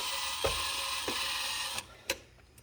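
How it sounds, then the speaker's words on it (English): A ratchet tightens bolts on the plastic body of a Razor MX400 electric scooter, a few sparse clicks and knocks over a steady background hum, close and fairly quiet with no speech. "now we can tighten up all the bolts"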